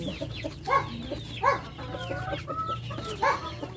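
Hens on a small egg farm cluck close by in a series of short, repeated calls over a low background hum. The clucks are spaced irregularly, and no one speaks.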